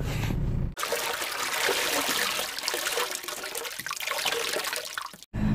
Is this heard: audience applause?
no